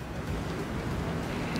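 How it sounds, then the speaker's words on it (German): Strong wind buffets the microphone at a trout fishing lake, a dense continuous roar with no pauses, and no talk is heard. "der Wind drückt ziemlich kräftig hierher"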